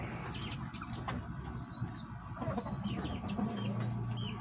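Hens clucking in a simple backyard chicken coop, with a rooster-like call and steady low murmuring from the flock, close and continuous with scattered brighter calls.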